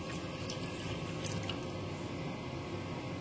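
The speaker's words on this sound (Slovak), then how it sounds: "Trocha to podlejeme vodou" Water pours steadily into a pot of cabbage goulash with pork, a continuous soft rushing splash at close range, no talking.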